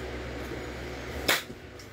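A single sharp test-fired shot from a demo unit cracks out close and loud after a quiet hum of background, then fades quickly into a brief tail.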